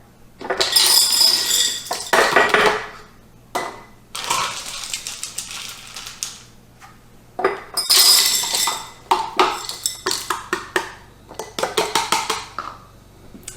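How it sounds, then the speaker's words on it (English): Dry beans rattle into glass canning jars in bursts of pouring, bright clinking and rushing, with pauses between jars and a run of quick taps near the end. "So I'm going to add 1 cup of beans to each jar."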